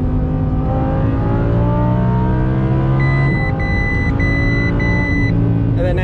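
A straight-piped Audi R8 engine drones steadily and loudly from inside the car, its pitch climbing and holding as revs build, with a brief shift in tone near the end.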